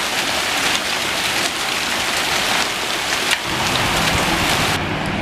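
Heavy rain pours down steadily during a summer hailstorm, a dense continuous hiss of drops pounding surfaces with scattered sharper hits, loud and unbroken throughout with no voices.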